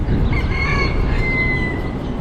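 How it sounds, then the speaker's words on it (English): Chickens clucking and calling over a loud, steady rumble of traffic or wind on a Honolulu, Hawaii street near the cruise terminal, the bird sounds thin and a little distant. "And I hear chickens."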